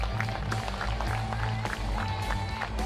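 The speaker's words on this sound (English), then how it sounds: "Another round of applause for a downrider getting back up" Applause for a BMX rider getting back up after a fall at the UCI BMX Racing World Championships in Rock Hill, South Carolina: steady crowd clapping and cheering mixed with an announcer's voice over the PA.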